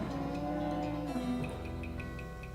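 A cow in the video game West of Loathing lets out one drawn-out, fairly loud moo with a rising then settling pitch, heard on its own without speech.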